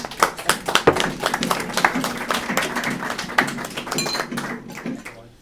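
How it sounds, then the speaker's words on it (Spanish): Audience clapping for a speaker at a talk on medieval music, distinct individual claps at first building into a modest round of applause that fades out near the end. "Un aplauso a Juan Ignacio"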